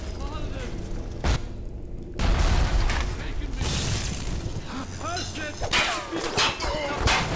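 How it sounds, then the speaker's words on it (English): Gunfire in the video game Bioshock: a busy stretch of booming shots and impacts with scattered mechanical clatter, running continuously at fairly loud level, with a voice talking and exclaiming over the action. "I'm getting shot at."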